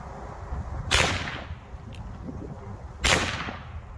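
Two sharp, loud cracks about two seconds apart from number 11 percussion caps fired on a cap and ball black powder revolver, each followed by a short decaying echo outdoors.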